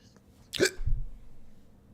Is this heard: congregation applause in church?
no